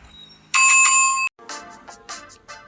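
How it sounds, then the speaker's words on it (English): A bright, clear notification bell chime rings once, loud and close, followed by a quick series of softer tinkling tones. "notification bell."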